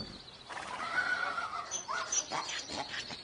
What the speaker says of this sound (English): That was just the horses and donkeys that are in the stable.